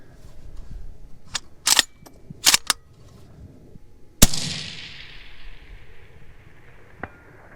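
A UPR15 gas gun fires several sharp shots outdoors, a few in quick succession, then one louder crack that rings out with a long fading tail as the round impacts downrange, and a final faint shot follows.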